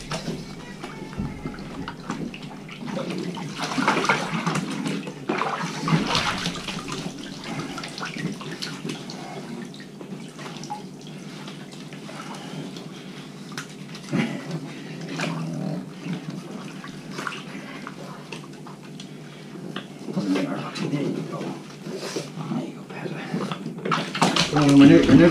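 Running water rinses a thick-coated pug in a bath, a steady splashing wash that carries on throughout, with a person talking over it now and then.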